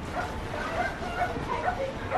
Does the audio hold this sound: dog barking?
yes